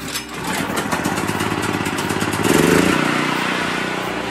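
A portable generator runs at a shop build site, a loud close mechanical engine chug with a rapid pulsing rhythm that swells slightly midway and holds steady throughout.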